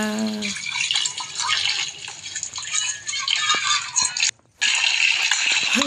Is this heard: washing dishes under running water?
yes